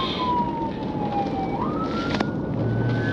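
A police car siren wails during a high-speed pursuit, its steady tone sweeping downward then rising again, loud and continuous over heavy wind and road roar captured on a dashcam.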